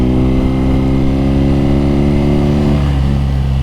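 A BMW R nineT motorcycle engine drones loud and steady up close, a deep continuous throb with a slight shift in pitch near the end and no voices over it.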